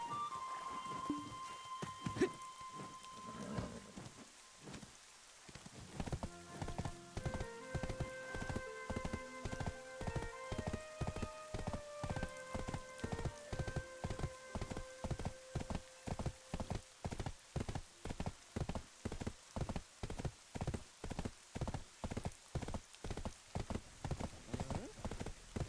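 Horse hooves clip-clopping steadily in the rain in the Black Desert video game, rhythmic hoofbeats over falling rain with faint game music tones, quiet overall.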